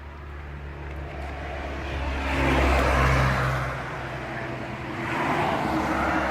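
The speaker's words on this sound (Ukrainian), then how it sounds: "Автомобілі їздять трішки шумно." Cars drive past a self-service car wash, their broad road roar swelling and fading in two passes, one near the middle and one toward the end, moderately loud with no talk over it.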